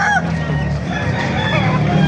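Chickens and roosters at a poultry market in Baliuag, Bulacan, clucking and crowing in a dense, continuous chorus of overlapping calls, close and loud throughout.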